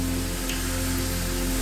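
Rain falling steadily during a flood in Honduras, a constant hissing wash of drops under a low steady hum, with no voices.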